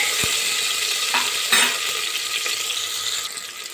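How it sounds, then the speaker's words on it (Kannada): Onions for mushroom masala fry in a pan with a steady, loud sizzle close by, broken by a few scraping stirs. "ಈರುಳ್ಳಿ ಹಾಕೋತಾ ಇದ್ದೀನಿ. ಇದನ್ನು ಸ್ವಲ್ಪ ಫ್ರೈ ಮಾಡ್ಕೊಳ್ಳೋಣ."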